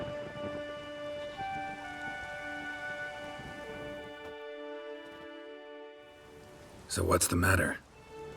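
Steady rain falls in The Witcher 3 video game, a constant hiss under game music and voiced dialogue, with a louder, denser burst of rain or thunder near the end.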